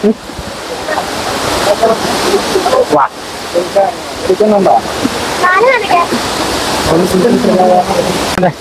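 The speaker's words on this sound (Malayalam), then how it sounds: "ഇതാണ് നമ്മുടെ പാലരുവി വെള്ളച്ചാട്ടം" Palaruvi waterfall in Kollam roars as a loud, unbroken wash of falling water close by, with people talking and calling out over it.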